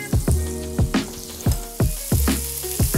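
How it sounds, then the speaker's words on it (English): Burger patties fry in a pan of hot oil and butter, a steady close sizzle broken by about six sharp spits and crackles at a regular rhythm, with no one talking. "I just need to go to cook the patties, and here we go."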